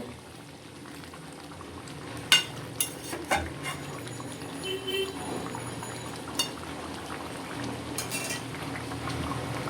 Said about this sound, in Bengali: আর একটু ফুটবে নামিয়ে দেবো